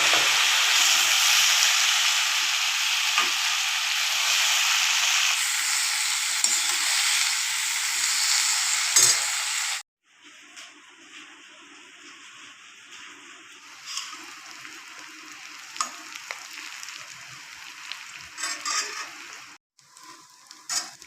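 Bitter gourd (karela) frying in hot oil, a loud dense sizzle for the first ten seconds, then a quieter crackling fry with occasional stirring clinks after a brief cut.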